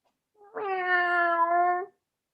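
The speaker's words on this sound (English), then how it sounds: "Poor little kitty cat Clyde hasn't eaten all day" Cat meowing on a theatre stage: a single drawn-out, clear meow lasting over a second, close and alone against silence.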